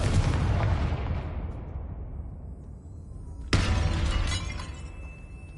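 The Confringo blasting spell in Hogwarts Legacy explodes with a loud crash that fades out slowly, then a second sharp explosive burst hits and rings before tapering off.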